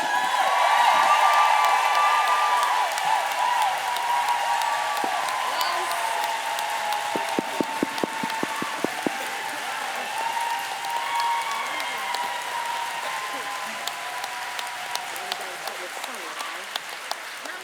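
Warm applause from a conference audience greets a guest, a broad sustained wash of clapping with some whoops, thinning and scattering toward the end as a voice begins to speak.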